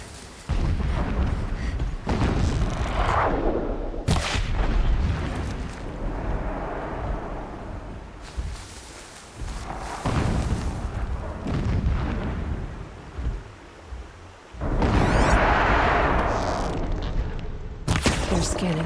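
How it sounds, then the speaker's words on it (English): Booming distant explosions in Horizon Zero Dawn, heavy low rumbles rolling in several bursts over a steady windy roar, with a louder blast near the end. "Explosions in the distance."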